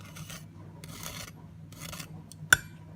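Crunchy crust of a bread-free sage and onion stuffing scraped and pressed, soft rasping crackles in a few bursts ending in one sharp crisp snap, close and quiet.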